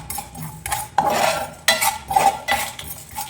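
Onions and fenugreek are sautéed in a pan for a village-style fish curry, with a metal spoon scraping and clattering in repeated, uneven strokes. The stirring is loud and close, with no voice over it.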